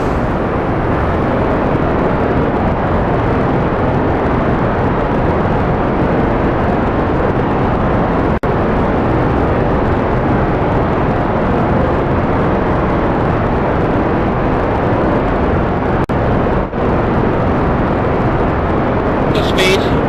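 Rocket engine in Kerbal Space Program roaring at full throttle from launch, a loud, steady, dense broadband rumble that holds unbroken for the whole stretch.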